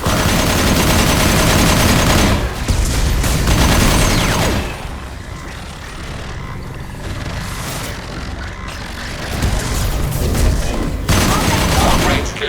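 Heavy gunfire in a Mass Effect 2 firefight, loud close bursts of rapid shots and booms, easing into quieter scattered fire midway before intensifying again.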